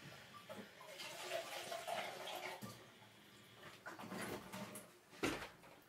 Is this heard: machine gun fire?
no